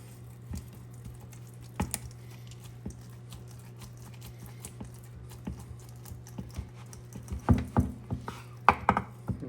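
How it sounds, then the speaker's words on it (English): A knife slices down through a smoked beef brisket to cut it into steaks, giving soft, scattered squishy cuts and taps over a low steady hum, with a brief burst of denser cutting sounds near the end. "now I'm going to slice it down the middle"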